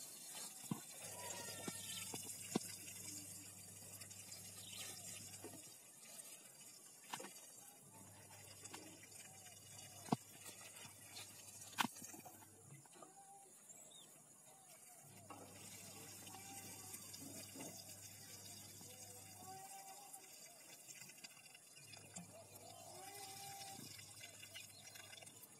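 Water splashes and runs steadily from a hose or tap while plants are watered on a durian orchard planted with Musang King trees in the dry season, a continuous close hiss with brief pauses and a few knocks.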